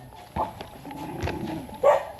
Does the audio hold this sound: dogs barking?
yes